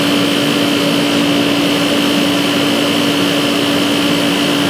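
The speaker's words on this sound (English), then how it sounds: "This fan's gonna kick on." A Dyna-Glo heater's blower fan runs with a steady, loud whirring drone and a constant tonal hum, holding even throughout without any spin-up change.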